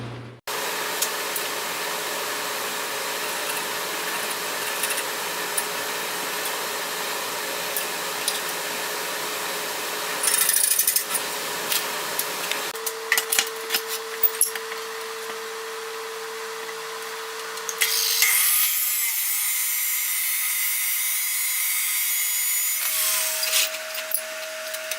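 A strip of material being cut into two 4-inch pieces with a power tool, a steady continuous cutting whine that shifts pitch partway through and ends in a higher, brighter grinding tone, close and loud.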